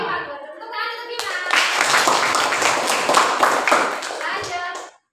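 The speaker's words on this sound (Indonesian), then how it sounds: "Ayo Bima, tepuk tangan untuk Bima." A classroom of schoolchildren claps for a student named Bima, a dense burst of applause lasting several seconds before tapering off, with children's voices audible at the start and end.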